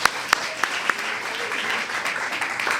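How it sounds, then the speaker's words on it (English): Steady applause from an audience, with a few sharper claps standing out near the start before the clapping evens into a continuous wash. "let's give Boozy applause for it"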